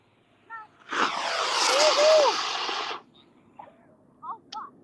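An RC rocket plane, an E-flite composite model, roars past at a flying field in a loud sustained whoosh lasting about two seconds. It rises and fades with a slight pitch sweep, and brief voices speak before and after.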